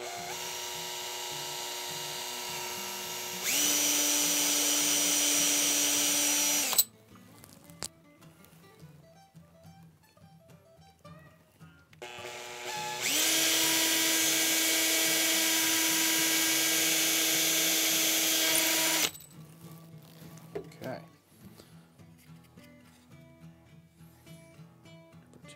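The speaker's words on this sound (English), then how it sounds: "Just have to be careful about drilling straight down." A power drill bores a hole into wood for a pen box, whirring in two sustained bursts of several seconds each, loud and close, with quieter handling noises between them.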